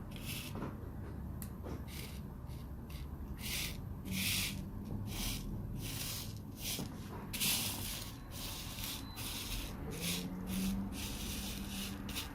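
A brush sweeps gently over rhinestones on a t-shirt, giving soft rhythmic rubbing strokes with light clicking of loose stones, close and quiet, with no talk.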